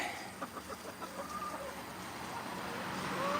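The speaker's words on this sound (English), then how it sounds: "That's the disabled hen." Hens in a backyard coop at night cluck softly in a series of short, close calls, with a low steady background hum and a faint rising tone near the end.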